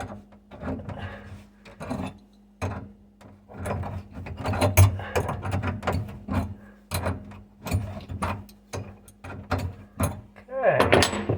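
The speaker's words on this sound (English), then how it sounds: "Using the Hart 6-inch adjustable crescent wrench." Close, irregular metallic clicks and scrapes of a Hart 6-inch adjustable wrench loosening kitchen faucet nuts under a sink, repeated knocks and ratcheting sounds at moderate volume.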